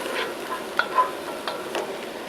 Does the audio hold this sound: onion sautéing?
yes